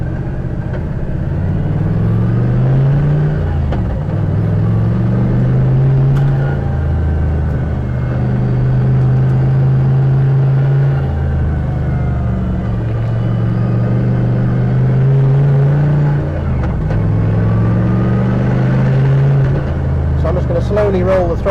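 A turbocharged Toyota 1UZ V8 car is driven under throttle and boost. The close, loud engine note climbs and falls in repeated cycles as it pulls through the gears.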